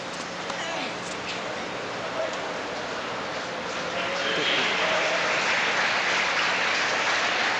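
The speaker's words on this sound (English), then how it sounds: "Ironic applause as Kafelnikov wins his second point of this set." Sparse ironic applause from a tennis crowd at a 1998 Cincinnati doubles match after Kafelnikov wins a point, a steady broadband patter of clapping that swells slightly louder toward the end.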